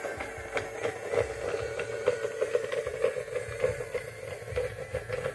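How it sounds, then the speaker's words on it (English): A robot vacuum cleaner runs across home floors, giving a steady, faint motor hum with soft rhythmic clicks and bumps as it moves. "A vacuum cleaner robot here. Check it out. Vacuuming up my floors."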